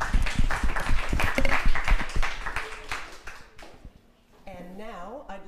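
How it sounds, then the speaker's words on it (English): At a graduate student monthly meeting, the audience claps loudly and briefly, then the clapping thins out and fades, and a speaker begins talking afterward. "Let's give Rod a huge round of applause."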